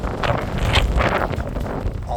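Wind blowing outdoors across a yard, a steady gusty roar buffeting the microphone with broadband rushing that swells and eases throughout.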